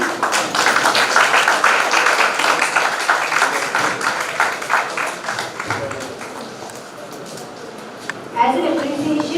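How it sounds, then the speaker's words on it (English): Audience applause at an international conference as a guest is invited onto the dais, a sustained round of clapping that slowly fades, with a voice and a sharp bump near the end. "A big round of applause, please."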